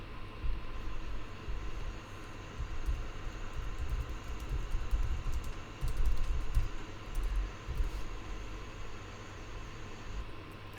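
Soft, rapid key clicks of typing on a computer keyboard, continuous and fairly faint beneath a steady hum of background noise.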